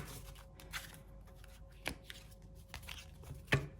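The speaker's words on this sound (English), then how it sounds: "shuffle 2 more times" Tarot cards are shuffled by hand during a love reading, giving soft papery riffles and a few sharper taps, quiet and close, with no voice present.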